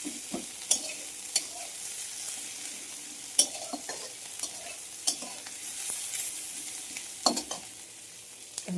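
Onion and bay leaf fry in a small amount of oil with a steady sizzle, while a spoon scrapes and stirs in repeated sharp clicks against the pan; no one speaks.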